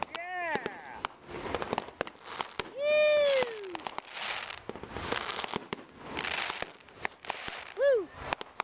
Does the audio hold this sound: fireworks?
yes